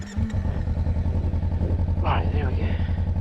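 A Kawasaki Versys motorcycle labors uphill in a low gear at high RPM on a recreation-area trail, its engine droning close and steady while a rider speaks briefly over it.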